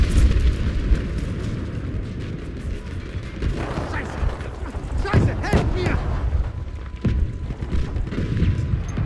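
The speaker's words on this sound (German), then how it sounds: "Fordern einen V1 Luftschlag an." Battlefield 5 V1 air strike in wartime gameplay: a run of heavy booming explosions with rumbling blasts and sharp bursts, loud and clustered in the middle and later part, over ongoing battle noise.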